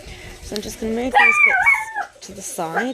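A dog barks and howls in the background of a home, several yelping and howling cries mixed with someone speaking close by.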